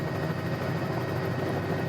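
A Bell 206 L3 Long Ranger helicopter in Microsoft Flight Simulator hums with a steady engine and rotor drone, low and even, filling the whole moment without pause or talk.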